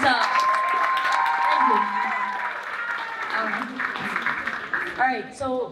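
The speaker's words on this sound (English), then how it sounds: "Okay, clap it up for Miss Borello." Audience applause at a school sports award dinner, steady clapping from a crowd that fills the room, with voices mixed in and the clapping fading toward the end.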